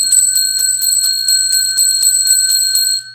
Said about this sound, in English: I'm going to ring the bell for you.